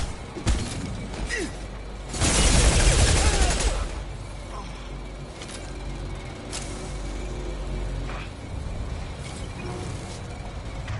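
Gunfire with incendiary ammo in the Mass Effect video game: a dense, roaring two-second burst of shots and crackling impacts stands out over a steady noisy battle bed, with scattered sharper pops after it.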